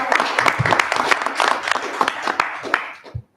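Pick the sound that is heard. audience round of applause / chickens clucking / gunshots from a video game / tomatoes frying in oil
audience round of applause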